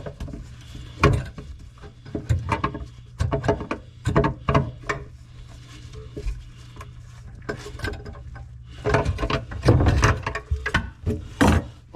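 A ratchet tool tightens faucet fittings under a sink, its clicking coming in short rapid bursts separated by brief pauses, close and fairly loud with small knocks between strokes.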